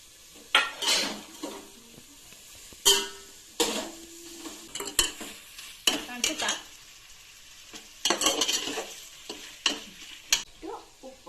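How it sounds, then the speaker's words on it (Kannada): Paneer is added to a hot pan and fried, with repeated scraping and clanking of a metal spatula against the pan over a steady sizzle, in irregular bursts, close and fairly loud, without talk. "ಫ್ರೆಂಡ್ಸ್, ಇವಾಗ ಪನ್ನೀರ್ ಹಾಕ್ತೀನಿ."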